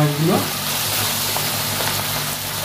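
Pomfret fish frying in a mustard-poppy masala, a steady close sizzle that hisses evenly throughout at moderate loudness.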